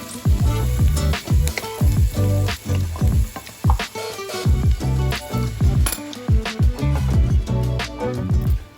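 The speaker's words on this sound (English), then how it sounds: "We're going to let this butter melt, and then we'll add our heavy whipping cream." Butter melting and sizzling in a pan for a shrimp and crab Alfredo, a steady loud crackle broken by frequent clinks and scrapes of a utensil stirring against the pan, with no voices.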